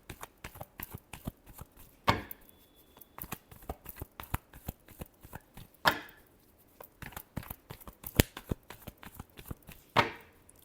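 Tarot cards are shuffled in quick soft riffling flicks and taps, with three sharper louder shuffles spaced a few seconds apart, close and fairly quiet, with no talking.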